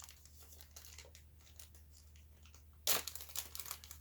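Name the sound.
ripping open packaging of a new vacuum belt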